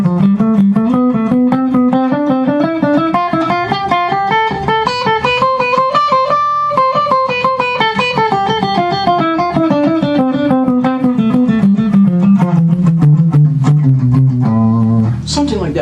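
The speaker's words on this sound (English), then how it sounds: "Now it's time to play scale patterns" An electric guitar plays a scale pattern in quick zigzag runs, with a clean, even stream of notes climbing to a peak and winding back down, loud and close.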